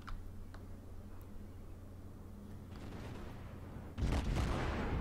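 The naval guns of the Cleveland cruiser fire in World of Warships, heard first as faint, muffled thuds under a low rumble. A heavier, sustained booming salvo swells in during the last second.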